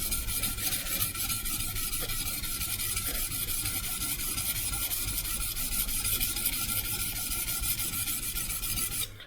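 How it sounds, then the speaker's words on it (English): An IKEA FJÄLLRÖDING santoku knife scrapes rhythmically across a Sharpal sharpening stone, a continuous close gritty rasp of repeated strokes with no voices. "I love how fast the stone works"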